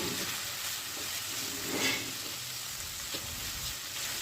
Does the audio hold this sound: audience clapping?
no